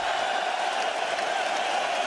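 A boxing arena crowd at the MEN Arena applauds Kostya Tszyu after his fight with Ricky Hatton, producing a dense, continuous wash of clapping and crowd noise with faint voices mixed in.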